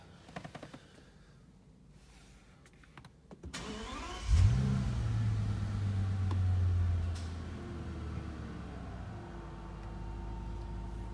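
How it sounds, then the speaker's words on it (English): A Bentley Continental Flying Spur engine cranks and catches with a loud starter burst, then settles into a steady, fairly close idle with a brief rev before it evens out; no one speaks. "let's jump in the car now for you and start it."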